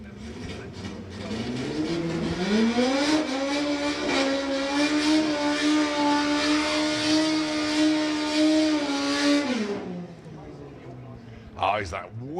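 A Ford Escort race car with a 2.1 litre engine runs loud and steady at a drag strip for about eight seconds, its pitch rising as it revs, then cutting off abruptly with brief noise after.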